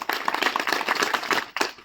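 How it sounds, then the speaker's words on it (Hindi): Children in a village school classroom clapping together, a short burst of dense, fairly loud applause that fades briefly near the end and then resumes. "एक बार सभी लोग ताली बजा दो।"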